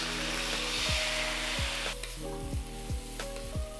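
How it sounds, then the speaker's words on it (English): Cauliflower stir-fries with sauce in a pan, a loud sizzle with repeated scraping strokes of a spatula at a steady rhythm, close and with no talking. "Cook until cauliflower is soft. Mix in the sauce."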